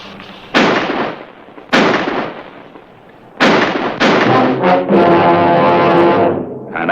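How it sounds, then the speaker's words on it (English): Several loud, sharp gunshots crack out in a western ambush, each blast followed by a decaying rumble, with a ringing, sustained tail near the end. "Wait till I get off the first shot."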